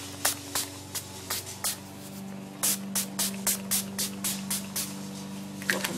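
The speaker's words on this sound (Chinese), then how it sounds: "我用的是 Urban Decay 的这一个 Chill 定妆喷雾" Urban Decay Chill makeup setting spray is pumped in a quick series of short, sharp hissing bursts, about a dozen close spritzes in an even rhythm over a steady low hum.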